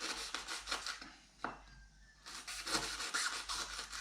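Knife trimming lemongrass and kaffir lime into small bits on a board for Thai and Lao sausages, a run of close, quick chopping strokes with a brief pause midway before the steady cutting resumes.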